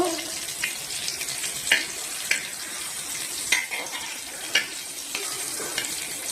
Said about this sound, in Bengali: ফোড়নে দিয়েছি আমি 5 ফোড়ন, কাঁচা লঙ্কা। একটু নেড়ে নেবো।